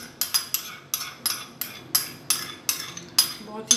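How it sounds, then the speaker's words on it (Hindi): Mayonnaise and chili sauce mixed in a bowl for a chicken sandwich, a spoon clinking sharply against the bowl about ten times in a quick, steady rhythm, close and alone. "मेयोनीज और चिली सॉस को हमें अच्छे से मिक्स करना है।"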